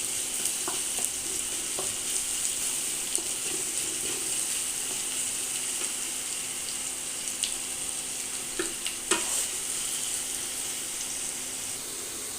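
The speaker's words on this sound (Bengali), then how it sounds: "আমার এই পেঁয়াজে যখন এইরকম ভাজা ভাজা হয়ে আসবে" Onions frying in a pan, browning, a steady close hiss of sizzling oil broken by occasional light clicks of stirring, no talking.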